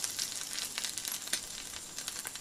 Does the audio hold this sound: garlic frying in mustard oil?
yes